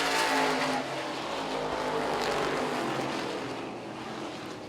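Street stock race cars roar around the Lancaster Motorplex track, a dense, continuous engine drone heard from a distance that gradually softens as the pack moves away.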